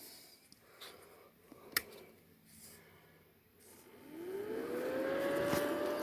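After a few faint clicks and taps, an electric spin indexer storage box's cooling fan switches on, rising into a whirring hum that swells and settles at a steady pitch.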